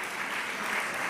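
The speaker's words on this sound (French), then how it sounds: "je voudrais saluer les applaudissements soutenus dont Madame la Ministre vient de bénéficier de la part de la droite" Sustained applause from senators in the French Senate chamber, a dense steady wash of many hands clapping for a brief moment.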